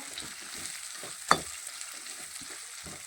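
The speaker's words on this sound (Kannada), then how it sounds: "ಈಗ ನೀರುಳ್ಳಿ ಹಾಕಿದ್ದೀನಿ. ನೀರುಳ್ಳಿ ಚೆನ್ನಾಗಿ ಬೇಯಬೇಕು." Onions frying in a pan for upma, a steady soft sizzle close by with a few stirring scrapes and one sharp clink of the spoon against the pan.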